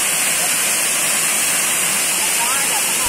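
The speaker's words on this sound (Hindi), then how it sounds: "ये हमारा वाटरफॉल" A waterfall reached across farm fields in Maharashtra, heard as a dense, steady roar of falling water, loud and close, running without pause.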